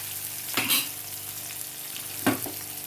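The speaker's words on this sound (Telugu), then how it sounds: "వెల్లుల్లిపాయ జీలకర్ర ఎండుమిరపకాయ మినప్పప్పు కరివేపాకు ఉల్లిపాయ పచ్చిమిరపకాయ వేసి వేపుకున్నా" Garlic, cumin, dried chillies, urad dal, curry leaves and onion fry in a pan with a quiet, steady sizzle. Two short stirring scrapes stand out about a second and a half apart. No one speaks.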